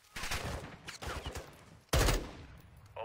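Gunfire in Apex Legends: a few sharp shots and bursts, one loud blast near the middle, mixed with game effects and brief talk.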